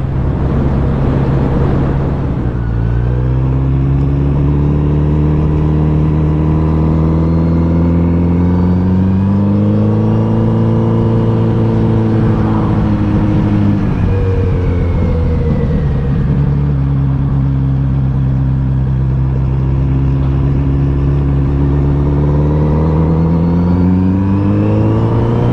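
A Kawasaki Z900 RS motorcycle engine pulling from low revs on the throttle, loud and close, its pitch climbing steadily through several gears with brief dips at shifts, continuous and without talk.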